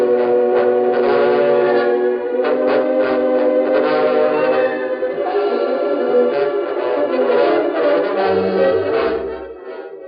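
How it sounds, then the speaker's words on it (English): A loud, sustained whistle from an arriving train, with several blended tones, sounds close by for most of the clip, then fades out near the end. "when the first train comes over the tracks into town"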